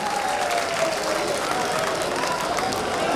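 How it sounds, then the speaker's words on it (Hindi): Loud, steady applause from an audience welcoming the poet Shambhu Shikhar at a Hindi comedy poetry gathering, dense clapping filling the whole stretch with a faint crowd murmur. "एक बार जोरदार तालियां बजाकर उसका स्वागत करें।"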